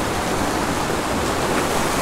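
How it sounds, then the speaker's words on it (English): A small trout creek runs close by in a steady, full rushing wash of water that stays even and unbroken throughout, with no voices. "And this is such a cool little creek."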